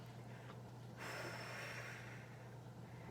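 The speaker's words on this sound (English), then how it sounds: "So what you want to do is you want to exhale." A person exhaling deeply before using a Diskus inhaler, a long breathy rush of air starting about a third of the way in, faint and close over a low steady hum.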